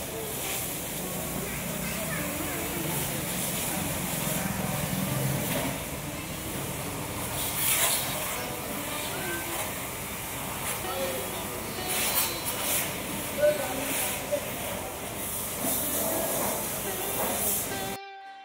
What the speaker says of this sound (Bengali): এখন গাড়িটাকে একবার ধুয়ে দিচ্ছে